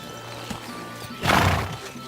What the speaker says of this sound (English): I'm whistling for my horse.